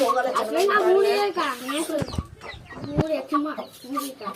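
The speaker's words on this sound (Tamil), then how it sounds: "இங்கே பார்த்தீங்கன்னா இதாங்க பட்டா கொண்ட சேவல்." Patta kondai fighting rooster clucking in short bursts close by, the bird calls mixed with someone talking steadily over them.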